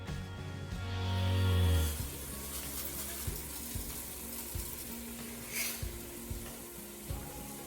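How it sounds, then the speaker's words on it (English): Vegetables softening in melted butter in a pan over very low heat give a soft, steady frying hiss, with a brief swell early on and light scattered clicks of stirring. "put the veggies in to soften."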